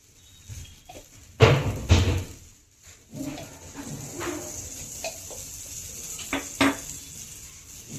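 Dosa batter spread thinly across a hot pan and drizzled with oil for a crispy paper dosa: scraping and clattering utensil strokes over a soft sizzle, with two louder knocks early on.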